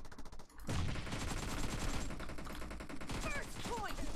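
An AK rifle sprays sustained automatic fire in PUBG Mobile, a loud, dense, continuous burst that starts abruptly after a brief pause and runs to the end.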